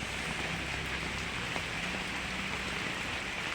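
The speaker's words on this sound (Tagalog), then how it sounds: "Kasi umuulan, guys." Steady rain falls on surfaces, a continuous even hiss with soft scattered drops throughout, no voices.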